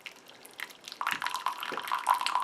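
Water pouring in a thin, fine stream from a Fellow Stagg EKG electric pour-over kettle, a soft trickling splash that grows steadier and brighter as it continues, close up and fairly quiet.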